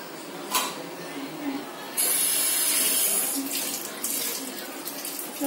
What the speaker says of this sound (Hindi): अब इसमें हम थोड़ा सा पानी ऐड कर देंगे